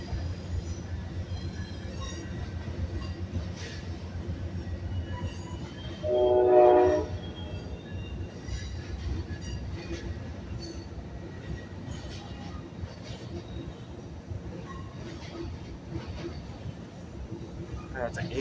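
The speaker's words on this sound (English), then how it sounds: "That's an 8-car train." A Union Pacific freight train rolls past a Sacramento, California trackside spot, its steady rumble and wheel noise continuing throughout, with a horn blast sounding briefly about a third of the way in while people talk nearby.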